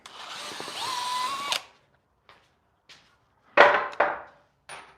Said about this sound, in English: I'm freeing up so many screws right now